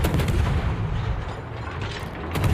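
Naval gunfire in World of Warships from a French Marceau tier 10 destroyer, a dense, loud rumbling roar of rapid cannon blasts rolling on without pause and a fresh burst at the end, with no talk.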